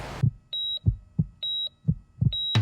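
Low, thumping heartbeat pulses sound in a steady rhythm, with a sustained electronic monitor beep between the beats. A short rushing burst opens and closes the sequence.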